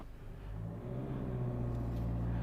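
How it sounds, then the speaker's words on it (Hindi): A 2024 Hyundai Creta facelift diesel automatic launches from a standstill, its engine rumbling and building into a steady, swelling drone under acceleration, heard from inside the cabin without talk. "तो अब हम लॉन्च करने वाले हैं डीजल ऑटोमेटिक को।"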